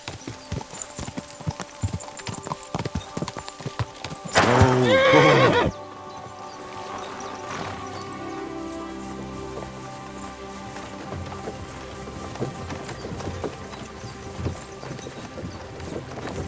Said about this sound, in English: Nice horses you have there.